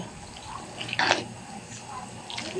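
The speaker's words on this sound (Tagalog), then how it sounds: "Kailangan natin banlian to ng mainit na tubig para hindi mapanis." Hot water poured over fresh coconut to scald it while making bukayo, a brief splashing gush near the middle, close and fairly clear over a quiet kitchen background.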